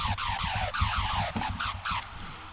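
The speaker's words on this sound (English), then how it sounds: "Okay, so this is a screech" A raw hardstyle screech synth built from two heavily detuned layers, harsh and buzzing, plays a repeating pattern of gliding, pitch-bent stabs over a pulsing low end. It is loud and heavily processed, with no voices.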